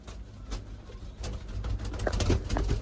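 A pair of Shah pigeons coo at their new basket, soft repeated coos nearby with a few light thumps and rustles.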